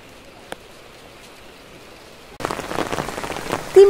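Rain falls at night, a faint hush at first that turns into a denser, louder patter of drops on surfaces partway through.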